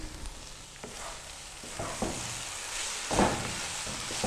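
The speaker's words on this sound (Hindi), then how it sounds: "इस तरीके से हमने इसको गाजरों के साथ भून लेना है।" Grated carrots and coconut powder sautéed together for gajar ka halwa make a soft, continuous frying hiss, broken by a few scraping stirs, one of them louder near the end.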